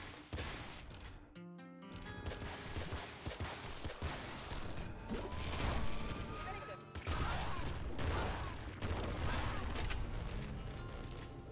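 Toxic minigun firing in the Nuclear Throne video game, a loud, dense, continuous rattle of rapid shots with mechanical clatter, briefly cut off once, then resuming almost unbroken.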